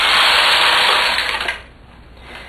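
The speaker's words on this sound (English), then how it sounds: "So we're going to go ahead and just knit one row." A knitting machine fitted with a garter bar knits a single row, a loud, steady whirring carriage pass that ends abruptly after about a second and a half, leaving a quiet tail.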